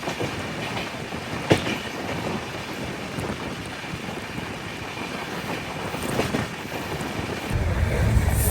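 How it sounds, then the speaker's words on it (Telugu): A goods train passes on an Indian railway line, heard from aboard the Prasanti Express, as a steady loud rumble and rushing wind that swells near the end, with faint rhythmic clatter throughout and no talk. "కాదు, గూడ్స్ బండి."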